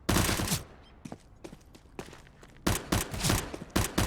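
Submachine gun fire in a competitive video game match: loud rapid bursts at the start and again near the end, with scattered single shots and short gaps in between.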